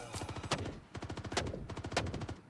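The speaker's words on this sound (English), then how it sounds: "And now they're just shooting." Rapid automatic gunfire from the Star Citizen video game sounds in quick repeated bursts, a dense rattling volley of shots close and fairly loud.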